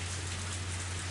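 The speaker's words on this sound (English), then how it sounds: "And you went to get it in this downpour?" A heavy rain downpour in the Higurashi visual novel game makes a brief, dense, steady hiss over a low constant hum.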